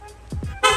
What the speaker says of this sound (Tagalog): dual horn.